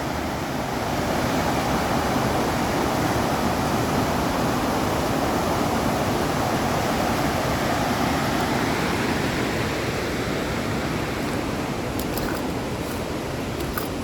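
Steady rushing water of a river current flowing under a bridge at Oka, a broad continuous roar heard close and loud throughout with no pauses.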